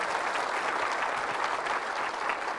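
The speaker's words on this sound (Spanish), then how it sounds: "Fuertes aplausos a la palabra de nuestro Señor y Salvador" A church congregation applauds in sustained, dense clapping during a Catholic sermon about Jesus as the Messiah, steady and fairly loud with no voices over it.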